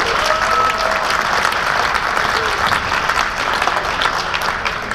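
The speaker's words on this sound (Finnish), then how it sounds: "nyt huikeat aplodit heille" Enthusiastic audience applause for eight couples in a slow dance championship final, a loud continuous roar of many hands clapping, dense and sustained throughout without pauses.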